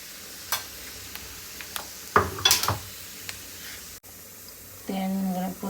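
Cumin seeds (jeera) drop into hot oil with a few light clatters and scrapes, then a sudden steady sizzle rises near the end.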